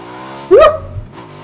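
In the video game PUBG, a motorcycle engine hums steadily before a sharp, loud tire skid squeals briefly mid-way, then the engine settles back to a drone.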